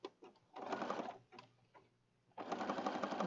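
A sewing machine stitches junk journal pages, its motor buzzing in fairly loud close runs that stop and start, with a longer pause before it picks up again.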